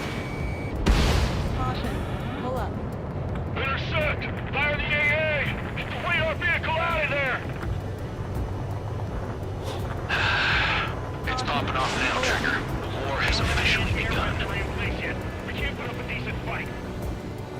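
Anti-aircraft fire in Ace Combat 7, rumbling bursts and booms under a steady wind-like roar, with several voices talking over radio throughout.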